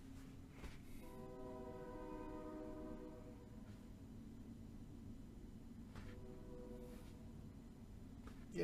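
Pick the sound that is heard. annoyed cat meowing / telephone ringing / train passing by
train passing by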